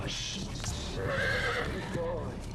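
A horse on a film set for Clash of the Titans (2010) gives a loud, close whinny, and its hooves clop beneath it while people talk in the background.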